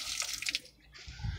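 Water rushing into the canister of an SFX1000 pool pump as trapped air escapes, a bright gushing, hissing flow that briefly dips, then returns with a low gurgling burst, close and fairly loud.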